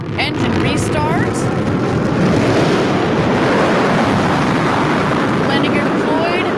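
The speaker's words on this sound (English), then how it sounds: "Engine restart." The BE-3 engine of a Blue Origin New Shepard booster restarts during its landing, a loud continuous broadband roar that fills the whole stretch, with a voice faintly audible at the start and end.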